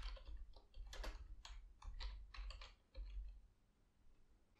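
Quiet keystrokes on a computer keyboard, a quick series of light clicks with short pauses, close and faint, with no one speaking.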